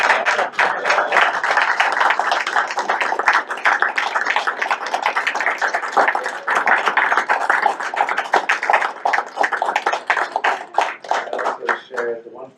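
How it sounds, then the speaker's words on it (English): Sustained round of applause from an audience at a school committee meeting, dense steady clapping from many hands filling the room for about twelve seconds before tapering off. "it was a resounding round of applause, and I think we could do that again for you"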